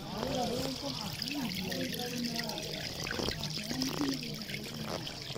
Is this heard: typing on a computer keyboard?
no